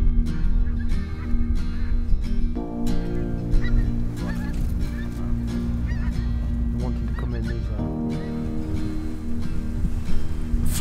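Flock of pink-footed geese calling in flight over a goose-shooting ground at dusk, a dense continuous chorus of honks with no pause, steady and fairly loud throughout.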